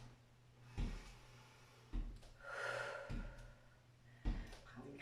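Slow, deep breaths during a gentle strength-exercise session, each inhale and exhale soft and close, repeating every second or so against a quiet room.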